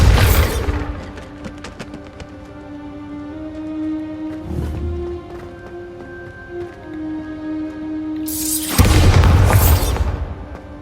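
Bombarda spell blasts in Hogwarts Legacy, with two loud booming explosions, one at the start and a bigger one near the end, over a steady game music bed with a softer thump in between.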